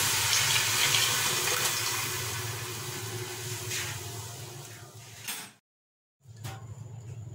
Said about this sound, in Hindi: पाए का शोरबा डाल दिया था